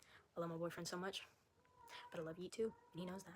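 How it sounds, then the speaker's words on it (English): A female cat in heat meows in drawn-out, wailing cries, heard faintly under and between a woman's close speech. "My cat, if you hear her meowing"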